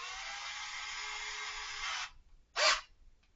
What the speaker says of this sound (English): And drill a couple of new holes.